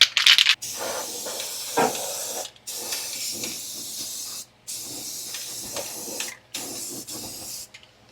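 Rust-Oleum rust reformer sprays in repeated hissing bursts under a Volvo 164e, each a few seconds long with short pauses between, close and steady.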